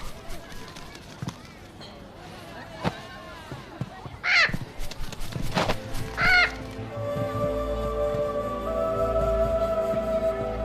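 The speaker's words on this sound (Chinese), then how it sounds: "哪来的臭鸟？" A parrot gives a few short, sharp calls in an ancient-costume drama scene. Sparse knocks come first, then sustained music swells up underneath.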